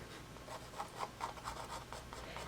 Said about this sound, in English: Do a little bit more sketching over here.